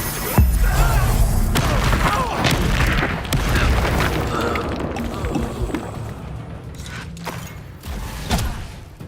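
Confringo fire-blast spells exploding in Hogwarts Legacy combat, a run of loud booming impacts and crashing thuds spread through the scene, with sharp cracks between them.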